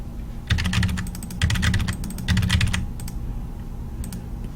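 Close computer keyboard typing in three quick bursts of rapid key clicks, with short pauses between and a few final taps, no talking.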